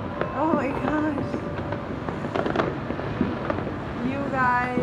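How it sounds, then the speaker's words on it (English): Neighborhood fireworks for a Christmas celebration crackle and pop in scattered bursts at a distance, while people talk over the continuous crackling. "It's like every family is like having fireworks show or whatever."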